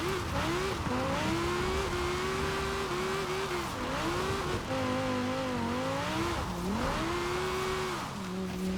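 Limousine drifting in Forza Horizon 4, engine holding a steady drone that rises and dips with throttle changes, tires squealing under the engine note, continuous and close.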